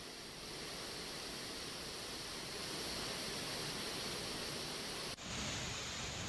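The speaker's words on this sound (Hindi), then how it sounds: "तमिलनाडु के इस वाटरफॉल पर बहाव इतना तेज है" A fast-flowing waterfall in Tamil Nadu gives a steady, dense roar of rushing water that holds unbroken and fairly even throughout.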